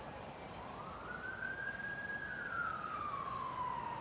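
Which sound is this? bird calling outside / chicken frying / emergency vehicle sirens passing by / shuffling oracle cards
emergency vehicle sirens passing by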